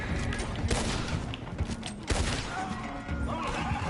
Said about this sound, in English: Just shooting innocents.